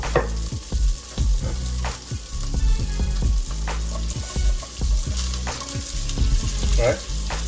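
Onions fry in a pan for baked spaghetti, sizzling loudly and close while repeated stirring scrapes and knocks sound through at irregular intervals, with no talking.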